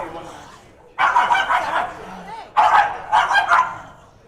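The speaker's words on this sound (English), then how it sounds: "We have a couple of puppy dogs over here below me in the broadcast booth that you might have just heard barking in the background" Small puppies yip and bark in short bursts below a broadcast booth at a tier 1 hatchet-throwing competition, two clusters of lively barking heard close and fairly loud, with a voice faintly present.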